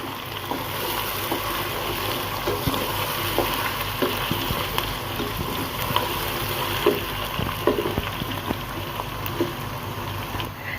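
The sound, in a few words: potatoes frying with garlic ginger paste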